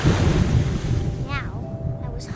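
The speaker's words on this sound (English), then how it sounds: "I rolled off a cliff and into the ocean." Ocean waves in What Remains of Edith Finch, a loud rushing surge of water with wind-like noise that eases off, followed by faint watery bubbling and a brief whistling tone.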